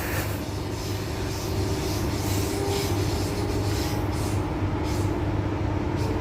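A four-car Transperth passenger train rolls along steadily, with a continuous rumbling drone, rattling wheels and a faint metallic squeal, heard from on board.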